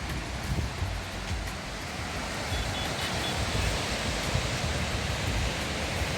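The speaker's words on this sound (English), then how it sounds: "I think this is Bees River, which is flowing." Beas River rushing near Manali, a steady broadband roar of flowing snowmelt water, loud and unbroken for the whole stretch with no voices.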